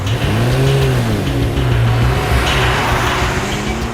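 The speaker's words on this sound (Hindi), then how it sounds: "चलो चलो पंच, श्वेता के घर गाड़ी लो।" A car engine revs and pulls away with a steady, loud drone that rises and falls, with no voices over it.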